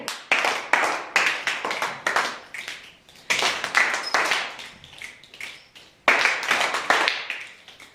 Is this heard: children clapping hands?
yes